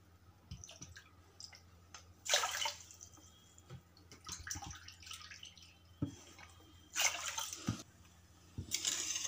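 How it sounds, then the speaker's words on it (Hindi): Water poured from a bowl over sugar in a pan for syrup, with several splashy pours separated by quiet gaps and small clinks and drips in between, fairly soft and close. "चार कटोरी हम पानी इसमें डालेंगे।"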